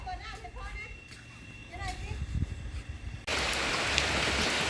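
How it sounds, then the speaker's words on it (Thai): Rain falls in a steady, close hiss that suddenly swells to a dense, even downpour for the last stretch. Faint voices and other movement can be heard beforehand. "ตื่นมาฝนตก"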